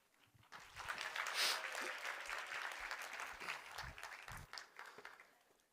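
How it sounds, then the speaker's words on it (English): An audience bursts into a round of applause at an indoor presentation, with dense clapping that starts abruptly, swells, then gradually thins out over several seconds. "Give him a round of applause, please."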